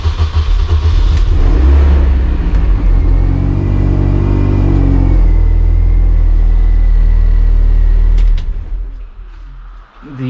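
Mini Challenge Clubsport race car engine starting and idling: a loud, steady low rumble with a rising whine midway and a rough drop-off near the end, close up and dominating throughout.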